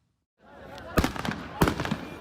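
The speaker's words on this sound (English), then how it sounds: "Troops used stun grenades and fired into the air to hold back the crowds." Two sharp, loud blasts of stun grenades or gunfire go off near Kabul airport, each followed by rapid crackling echoes amid crowd noise.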